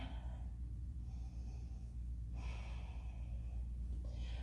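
Deep breaths during a yoga flow come as slow, close airy exhales, one long breath then another, over a steady low background rumble.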